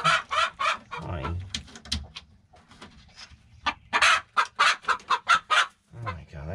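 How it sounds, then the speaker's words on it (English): An agitated hen in a backyard coop clucks loudly and close, with rapid bursts of sharp cackles that build into a rhythmic run of squawks, while a person speaks briefly in between. "That chicken is so ticked off."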